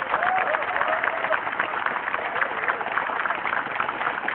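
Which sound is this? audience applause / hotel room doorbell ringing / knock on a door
audience applause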